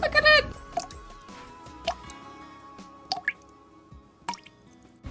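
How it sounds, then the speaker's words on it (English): Hot glue dripping onto small rolled paper candles for a miniature witch house, heard as a few soft, separate drips spaced out over several seconds, with a louder burst at the start and quiet background between. "drip hot glue on them to try and make some candles"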